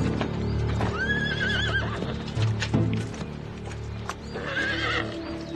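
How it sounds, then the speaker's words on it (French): A lame horse whinnies twice, shrill wavering calls near the start and end, over a steady clatter of hooves clip-clopping close by. "Mon cheval boite."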